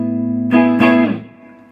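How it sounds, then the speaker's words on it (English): A Fender Strat riff plays through a Laney VC30 amp on the clean channel with a little reverb and a Joyo JF10 Dyna Compressor, a sustained chord followed by two struck chords ringing out and fading. "I'm going to play a riff through the amp. I'm playing through a Laney VC30 on the clean channel"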